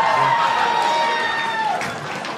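A comedy club audience breaks into a round of applause and cheering, a dense wash of clapping and crowd noise that stays loud and steady before easing slightly toward the end.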